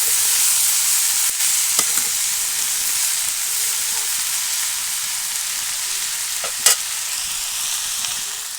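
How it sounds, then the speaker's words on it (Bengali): Chopped onion stalks fry in a pan with a loud, steady hiss and crackle of hot oil, punctuated by a few scrapes and taps of a spatula stirring, close and continuous. "আর একদমই কিন্তু ভাজা ভাজা করে নিচ্ছে এই যে"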